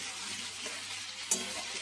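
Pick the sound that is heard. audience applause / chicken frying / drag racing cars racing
chicken frying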